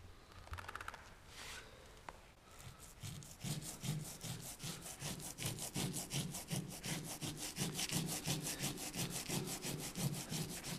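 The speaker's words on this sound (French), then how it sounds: "il va se créer à la surface de cette chape une laitance qu'il faut absolument venir poncer" A cured liquid cement or anhydrite screed floor is sanded to remove its surface laitance, a steady rhythmic scraping and rubbing of regular back-and-forth strokes that starts after a few seconds and continues near and fairly loud, with no voices.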